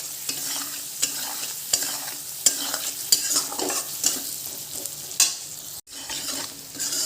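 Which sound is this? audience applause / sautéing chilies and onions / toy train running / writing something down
sautéing chilies and onions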